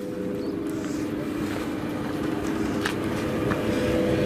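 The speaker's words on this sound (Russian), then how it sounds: "двигатель продолжает работать" A clothes dryer motor running on reduced 60-volt supply gives a steady, even hum with faint higher whine, constant and close throughout, with no talk.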